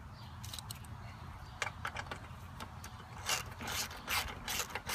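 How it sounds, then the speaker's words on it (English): A 13mm ratchet snugs down a wheel bolt on a John Deere JX75 lawn mower, giving bursts of close, crisp pawl clicking in short runs over a low background hum. "Take a 13mm ratchet, snug it down"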